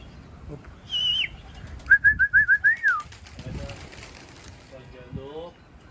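Pigeons cooing close by, a brief call and then a rapid series of about six bubbling coos, with another soft coo near the end and faint movement in the background.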